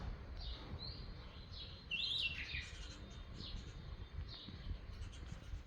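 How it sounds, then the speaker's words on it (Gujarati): Faint, high house sparrow chirps repeat at irregular intervals over a low background rumble. "જો આ ચકલી જુઓ ખાલી તમે"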